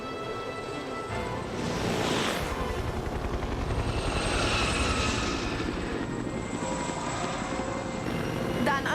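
A steady droning rotor and engine rumble, like a helicopter flying nearby, swelling slightly and holding at a loud, constant level.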